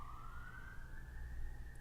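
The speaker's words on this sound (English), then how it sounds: "the sirens are just getting stronger up in the background" Emergency vehicle sirens wail in the background as one steady rising tone over a constant low rumble of traffic, distant and moderately loud, with no talking.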